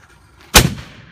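A single loud firework blast outdoors on New Year's Eve, a sharp sudden bang that decays quickly into a short rumbling tail.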